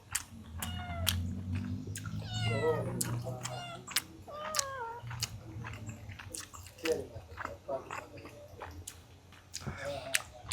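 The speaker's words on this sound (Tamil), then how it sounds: "பூனை சுற்றிக்கிட்டே இருக்கு." Several cat meows ring out in a Malay village yard, rising and falling cries scattered through the clip over background chatter and clattering, close and fairly clear.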